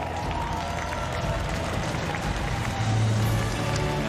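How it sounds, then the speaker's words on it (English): Applause from a large stadium crowd at the Paralympic para ice hockey gold medal ceremony in Beijing's National Indoor Stadium, a dense, distant, continuous wash of clapping and crowd noise holding steady throughout. "Warm applause, not just from the American supporters, athletes, and fans in the building, but throughout this National Indoor Stadium"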